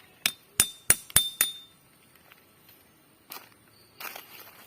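A metal spout hammered into a rubber tree: five sharp, ringing taps in quick succession, then quieter scattered knocks and handling noises.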